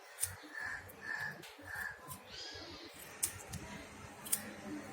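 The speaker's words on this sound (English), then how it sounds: "I'm just cutting this off." Several crisp snips of sharp scissors cutting rakhi-making material, evenly spaced and close, with soft rustling and a few sharp clicks between them.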